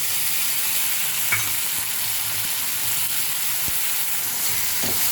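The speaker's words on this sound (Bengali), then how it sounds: "ভালো করে মিশিয়ে নেব" Garlic and ginger paste with tomatoes fries in a pan, a steady close sizzle broken by a few sharp clicks and scrapes of a spatula stirring, with no speech.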